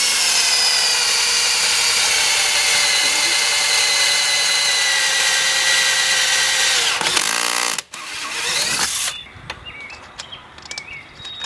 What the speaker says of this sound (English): Drill right through the guard